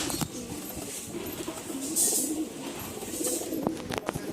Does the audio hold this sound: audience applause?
no